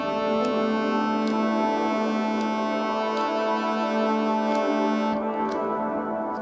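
A sustained, distorted guitar-like tone shimmers through a heavy reverb from a Strymon Nightsky pedal, with periodic bright pulses, then changes character near the end.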